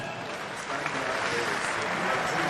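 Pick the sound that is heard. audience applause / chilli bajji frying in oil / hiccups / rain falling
audience applause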